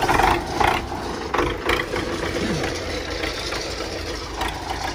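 An MTZ tractor engine idling nearby, a rough low diesel rumble with some knocking and a few louder surges early on, with no talk.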